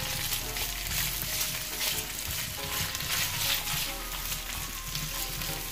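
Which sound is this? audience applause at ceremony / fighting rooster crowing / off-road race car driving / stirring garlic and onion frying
stirring garlic and onion frying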